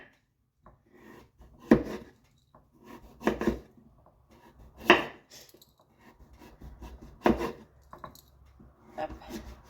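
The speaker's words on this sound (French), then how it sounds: "Donc, je coupe toutes les peaux." A knife slicing the skins off food on a board in a home kitchen, giving several separate, short scraping cuts spaced a second or two apart, close by and fairly quiet.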